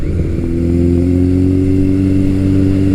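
Loud, steady drone of a Kawasaki motorcycle engine cruising at the speed limit, heard up close as a deep, even hum with no revving, from a KZ1000 or ZRX1200R.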